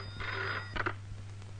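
A telephone rings in two quick bursts of a bright bell tone over a low steady hum, fairly close and without talk.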